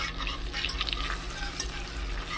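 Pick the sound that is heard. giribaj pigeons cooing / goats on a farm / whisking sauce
whisking sauce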